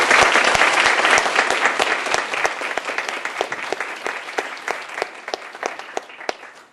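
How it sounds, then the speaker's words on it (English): An audience at a university civil and human rights panel event applauds the panel, loud dense clapping from many hands that gradually thins and fades out toward the end. "Can I give our panel a round of applause?"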